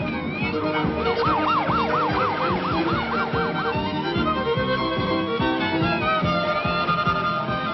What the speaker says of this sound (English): is that a siren I hear?